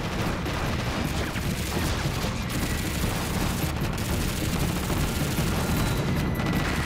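Sustained gunfire in a Chinese anti-Japanese war film battle scene, a dense, continuous fusillade of rifle and machine-gun shots with booming blasts, loud and close throughout.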